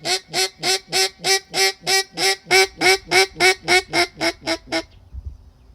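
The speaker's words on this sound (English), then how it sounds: "I just called this duck in on the lake." A wild duck on a lake, a drake searching for a hen, gives a loud, close run of about fifteen evenly spaced, nasal honking quacks in steady rhythm, answering a duck call, then stops abruptly, leaving faint low rumble.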